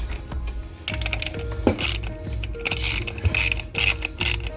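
A ratchet tightens bolts on the tire of a Hoover Dynamo, making rapid, close clicking runs in several bursts with short pauses and light mechanical rattles in between.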